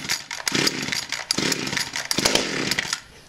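A vintage 1970s Partner 350 chainsaw fires up close by with choke out, its engine sputtering and revving in uneven bursts before catching, loud and rough throughout.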